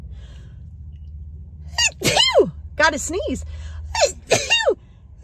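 A person imitates a sneeze with several exaggerated, squeaky vocal sneezes in a row, close and loud, over a low background hum.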